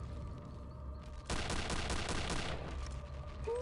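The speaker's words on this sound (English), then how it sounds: "let's use the paratroop rifle" Paratroop rifle fire in Return to Castle Wolfenstein, a rapid burst of automatic shots lasting about a second, loud and close over a low game ambience.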